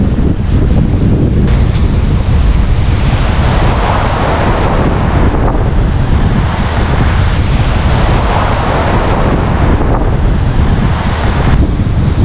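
Strong stormy wind roars across the microphone over crashing sea surf at a fishing spot off Mindoro, Philippines, a continuous loud stormy wash with no voices.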